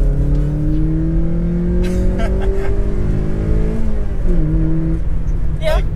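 Mazda Miata NB with variable valve timing accelerating, engine note climbing steadily through the gears with a brief dip at a shift, loud and close from inside the car.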